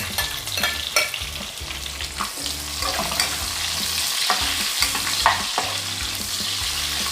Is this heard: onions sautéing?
yes